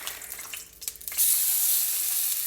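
A steak laid into a hot cast iron skillet, bursting into a loud, steady hiss of searing after some faint handling noises, close and continuous without any speech.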